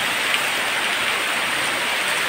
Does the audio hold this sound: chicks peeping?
no